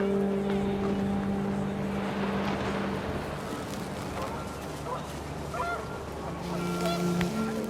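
Panicked geese honk in a windy outdoor scene in the game What Remains of Edith Finch, their calls rising briefly over steady wind and a low droning hum, the honks moderately loud and clustered toward the end.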